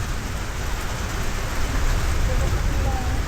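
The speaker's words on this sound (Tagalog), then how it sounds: "Umuhupa na ang ulan." Steady broadband hiss of rain falling at a campsite, constant and fairly loud throughout, with no voices.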